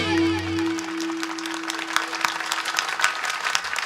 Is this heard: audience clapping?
yes